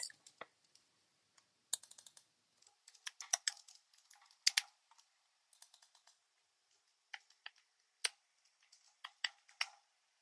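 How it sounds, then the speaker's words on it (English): Student names being typed on a computer keyboard, heard as bursts of quiet, close key clicks with short pauses between words, alone in a silent room. "So the first thing you're going to want to do is just type in your students' names."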